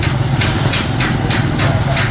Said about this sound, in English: Now she's gonna pour on some rice wine.